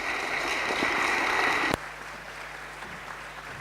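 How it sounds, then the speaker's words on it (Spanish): An audience claps for a speaker being introduced at a seminar on antibiotics in bacteria, dense and steady at first, then cut off abruptly partway through, leaving quiet room tone. "Un aplauso para él, por favor."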